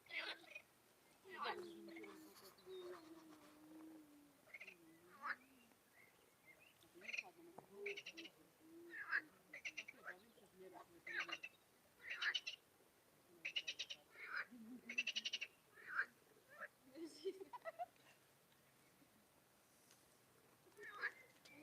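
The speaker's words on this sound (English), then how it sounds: "The symphony of frogs." A chorus of frogs calls in overlapping bursts of croaks and chirps, fairly faint and steady across the stretch, with irregular pulses rising and falling; a voice speaks briefly near the start.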